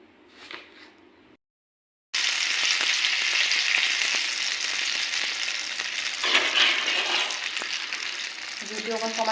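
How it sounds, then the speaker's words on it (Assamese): Battered bread pakora slices fry in hot oil with a loud, dense sizzle close by that runs steadily after a brief quiet start, with a faint voice at the very beginning. "এতিয়া ব্ৰেডৰ টুকুৰা এটা এটাকৈ ভাজি থাকিব লাগিব।"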